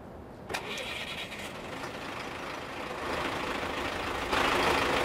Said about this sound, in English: I like the sound of this truck too.